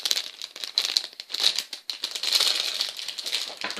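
Paper wrapping on a parcel crinkles and crackles up close as it is opened, in busy, uneven bursts of rustling with brief pauses.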